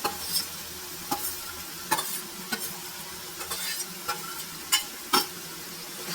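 Chopped capsicum (bell pepper) frying in a pan for a Kannada-style palya, with a steady low sizzle and a series of sharp spatula scrapes and clacks as it is stirred, close and alone with no talking.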